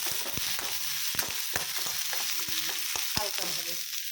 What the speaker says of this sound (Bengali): হালকা ফ্রাই করে নেবো